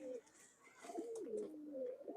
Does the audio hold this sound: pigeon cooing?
yes